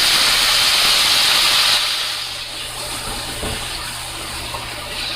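Seasoning hits hot oil in a frying pan, a loud, broad sizzling hiss that starts strong and then settles to a steadier, slightly quieter fry.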